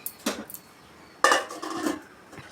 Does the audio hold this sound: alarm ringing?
no